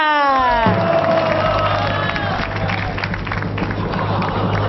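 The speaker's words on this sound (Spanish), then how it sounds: "Un aplauso para don Vincent Oruga" Audience at a live contest show bursting into cheering and applause, a loud crowd roar with shouts and clapping that holds for several seconds after a rising tone.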